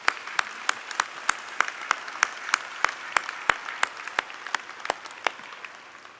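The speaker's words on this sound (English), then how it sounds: "Vous pouvez l'applaudir." Audience applause at an honorary doctorate ceremony at Concordia, a steady run of sharp hand claps filling the hall for several seconds with no talk over it.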